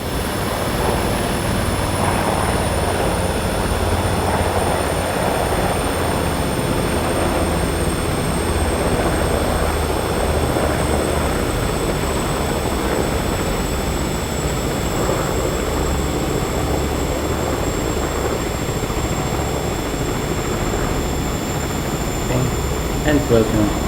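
Sikorsky S-76 helicopter in Microsoft Flight Simulator 2024, a steady loud turbine whine and rotor drone running continuously at close range, with a high engine tone slowly falling as the throttle comes down.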